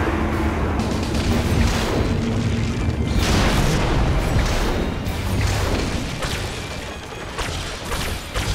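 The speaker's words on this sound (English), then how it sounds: "Oh, that's like a grenade or something." A grenade goes off in the video game Orcs Must Die 2 with a heavy, loud boom. Crashing debris and rumbling blasts follow over several seconds.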